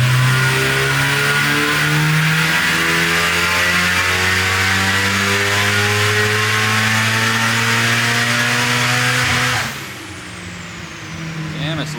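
A built Nissan S15 engine revs hard on a dyno during a power pull, a loud sustained rising roar with strong harmonics that cuts off abruptly near the end, heard from just outside the dyno room.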